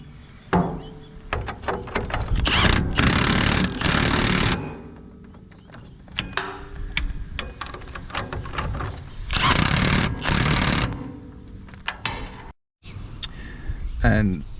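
An impact wrench fastens the tow bar mounting bolts on a GU Patrol, rattling in bursts of a few seconds with short pauses between them, loud and close.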